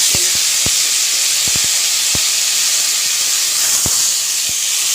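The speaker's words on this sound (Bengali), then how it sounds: "আমি কড়াইতে তেলের ফোড়ন দিয়ে দিয়েছি পাঁচ ফোড়ন এবারে আমি টমেটোগুলোকে ছেড়ে দেবো" Tomatoes drop into hot oil seasoned with panch phoron, setting off a loud, steady sizzle close by, broken by scattered sharp pops and crackles of the spices.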